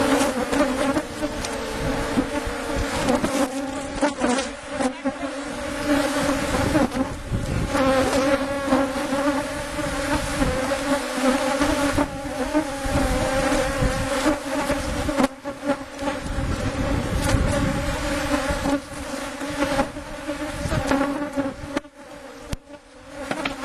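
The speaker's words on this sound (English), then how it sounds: "Probably hear the sound. There's a lot of bees." Many honey bees buzz at an open hive during an inspection, a dense, continuous droning hum that wavers and swells as bees fly close past, steady and fairly loud throughout with no talk.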